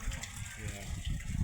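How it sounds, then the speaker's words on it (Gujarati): Water runs from a household tap to fill vessels while dishes are washed, a soft gushing with faint clinks that is heard under nearby voices. "અહીંયા નળે પાણી ભરે છે અને વાસણ ઉટકે છે"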